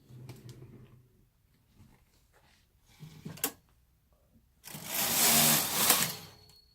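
A Brother KH-900 electronic knitting machine carriage is pushed across one row, with light clicks and clacks early on, then a loud, broad rushing slide of the carriage near the end, close by and without talk.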